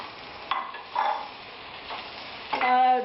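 Chopped tomato tossed into golden-brown fried onions over a medium flame for chicken biryani, a soft sizzle with a few scraping stirs and a brief clink near the end, fairly quiet, no voices.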